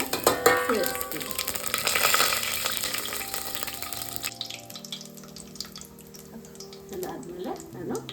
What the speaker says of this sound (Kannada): ಎಣ್ಣೆ ಕಾಯ್ದ ಮೇಲೆ ಸ್ವಲ್ಪ ಸಾಸಿವೆಯನ್ನು ಸೇರಿಸ್ಕೊತಾ ಇದ್ದೀನಿ. ಅದು ಚಟಪಟ ಆಗಲಿ